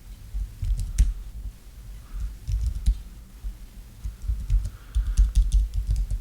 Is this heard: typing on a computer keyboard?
yes